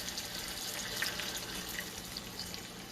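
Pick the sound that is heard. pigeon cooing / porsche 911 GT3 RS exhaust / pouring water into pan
pouring water into pan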